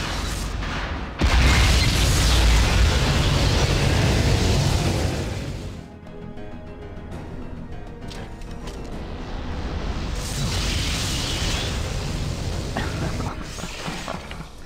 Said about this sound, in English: They're actually manning the cannon.